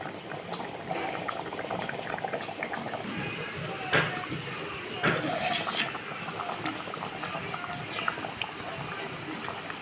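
Dal and potato curry bubbling in a pot, a steady broadband simmer with occasional soft pops and clinks throughout, fairly close and without speech.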